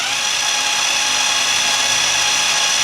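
Ryobi Kyocera BID 10XR impact driver spinning freely in low mode, a loud steady high-pitched motor whine that holds even from start to finish.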